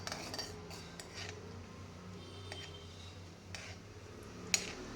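A spoon stirs chilli paneer in a pan, making faint, sparse clinks and scrapes against the metal. Quiet throughout, with a few sharper taps standing out and no voices.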